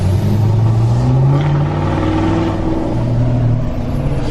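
A tuned 2020 Duramax diesel truck on 40-inch tires drones steadily from inside the cab, its engine pitch rising and falling as it shifts through gears, loud and continuous.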